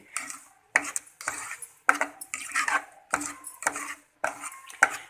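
Carrot halwa with cardamom pods is stirred and mixed in a pan, making a rhythmic run of metal spoon scrapes and clinks in about eight bursts, close up, with no talk.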